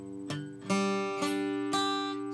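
Acoustic guitar chords strummed four times in steady succession, each ringing out close and clear, with a fretting finger lying against a neighbouring string so the chord buzzes slightly.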